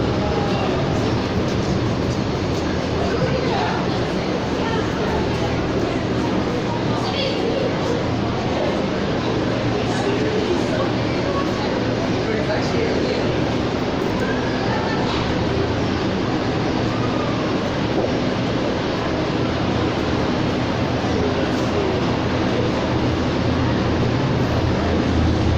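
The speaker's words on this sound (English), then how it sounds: "I just want to watch the train go" A Calgary Transit CTrain light rail train on the Red Line, heading eastbound or southbound, gives a steady loud rumble of wheels on track that lasts throughout as it passes close by.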